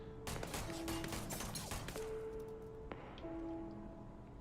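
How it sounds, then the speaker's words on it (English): Gunfire in the sci-fi game Starfield, with rapid bursts of shots in the first half and a sharp crack later, fairly quiet and mixed with steady electronic tones. "You're gonna shoot at me."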